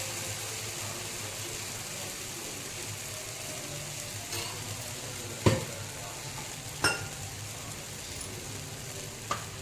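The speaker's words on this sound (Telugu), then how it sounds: "ఇప్పుడు దోశ వేస్తున్నాను." Jowar flour rava dosa batter sizzles steadily on a hot pan, a constant close frying hiss with a few sharp clinks of a utensil against the pan.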